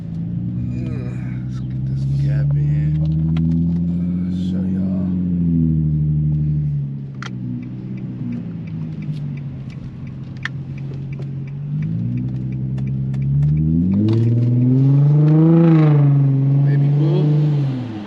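An Infiniti G35 with a Vibrant resonator rumbles and revs loudly, crackling and popping through the exhaust as it lets off, with someone talking over it.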